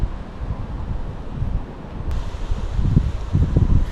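Wind blows outdoors on a Florida fishing trip, a loud, steady rumbling buffet across the microphone that gusts stronger toward the end, with no voices.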